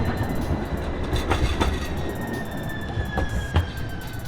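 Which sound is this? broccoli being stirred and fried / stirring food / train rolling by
train rolling by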